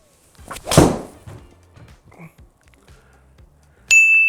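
A golf club strikes a ball on a drive, one sharp close impact near the start followed by quieter rustling and handling sounds, then an abrupt bright tone at the end.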